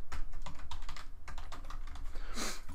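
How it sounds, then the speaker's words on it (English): Rapid typing on a computer keyboard, close and clear, a quick irregular run of key clicks with a louder keystroke near the end, no voices. "Let's just type it."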